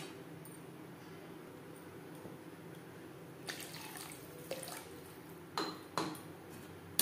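Water poured into a pan of curry, a soft running gush that comes in a few short bursts near the end, with light clinks of a pot and utensil over a quiet kitchen background.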